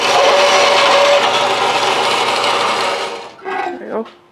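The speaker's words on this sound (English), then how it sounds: "we're going to do what will be our last cut, and that is cutting the socket" A socket for a Harley mainshaft sprocket nut being cut with a power tool, giving a loud, steady grinding whine that runs continuously for about three seconds, then stops and trails off into a few short scraping sounds.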